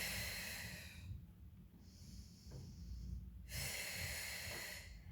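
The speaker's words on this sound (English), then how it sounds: "Easy breathing in through the nose and out through the mouth." A person takes slow, easy breaths in through the nose and out through the mouth during mat Pilates, giving two close, soft airy hissing breaths separated by a quiet pause.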